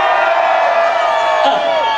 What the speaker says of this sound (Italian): quelli di Montecelio al mio tre fanno un urlo